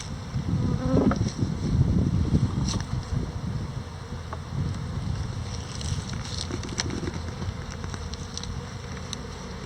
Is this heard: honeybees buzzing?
yes